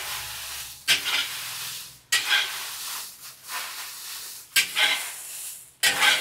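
Spices stirred through hot oil in a pan, sizzling in repeated bursts of bright hiss with short pauses between strokes, close and moderately loud with no talk.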